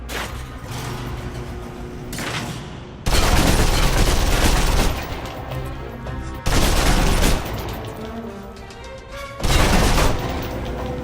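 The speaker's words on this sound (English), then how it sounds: "If you're trapped in close quarters with multiple opponents, the SMGs can help clear the room quickly." Submachine gun fire in Alpha Protocol, a close-quarters room-clearing fight, with loud sustained automatic bursts at roughly 3, 6.5 and 9.5 seconds. Busy game combat noise continues between the bursts, and no one speaks.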